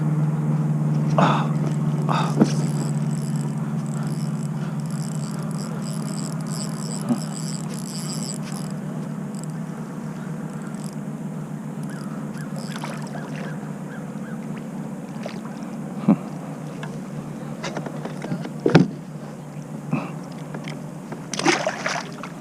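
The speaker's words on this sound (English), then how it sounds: "now we're moving with the main motor, not the trolling motor" A fishing kayak runs under its main gas motor at about four miles an hour on the water, with a steady low engine drone and a few faint knocks and splashes.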